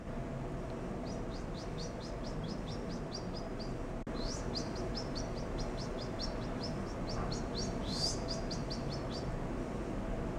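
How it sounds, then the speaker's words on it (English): Baby birds in a retro video game chirp in quick, high-pitched runs of repeated tweets over a steady background hum, with a couple of louder squeaks near the end. "You're just feeding baby birds."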